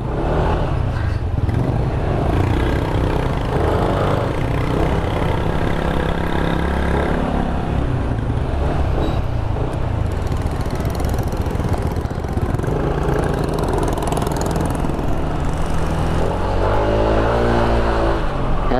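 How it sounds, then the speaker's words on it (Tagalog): A motorcycle running after a fresh AMSOIL oil change hums along steadily and close, with a continuous engine drone and small shifts in pitch as it rides, no talking. "Smooth na naman ang andar nitong motor ko mga karuba."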